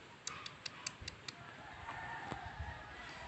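Short repeated calls from chickens, a few sharp clucks near the start followed by a quieter stretch of background noise outdoors.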